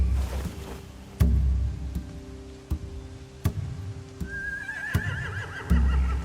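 Horses whinny and neigh in The Walking Dead video game, a drawn-out wavering call near the end, set among sharp wooden knocks and thuds and a low rumbling background, with no talking.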